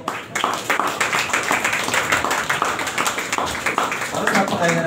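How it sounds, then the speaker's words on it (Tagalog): Church congregation applauding at a Sunday preaching service, a dense steady patter of many hands clapping close by, with a voice speaking over it. "pinabigyan sa isang pinakamalakas na palakpak po"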